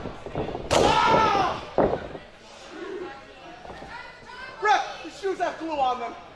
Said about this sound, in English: Collins throws all of his might into that shoulder tackle.